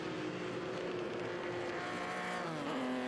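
Vintage race cars roar along a track during qualifying, with a Ferrari leading and a smaller car chasing; a steady, fairly faint engine drone holds throughout, rising slightly toward the end, with no speech.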